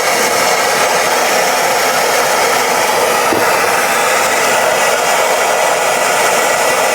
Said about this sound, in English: So we got the torch going